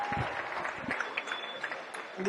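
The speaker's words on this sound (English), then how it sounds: "Just give these guys one more round of applause." Crowd applause after a boys' Division 1 basketball championship game, steady clapping at moderate distance for a couple of seconds, fairly faint in a large hall.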